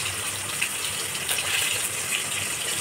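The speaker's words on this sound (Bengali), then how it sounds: "এবার দিয়ে দেবো একটু গরম জল," Hot water poured into a pan of cooked-down spices for a Bengali doi katla fish curry, a steady close gushing splash lasting a few seconds with no talk.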